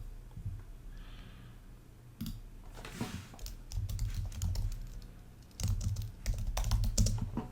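Quick runs of computer keyboard typing while writing web layout code, close clattering keystrokes in bursts with brief pauses, no voices over them.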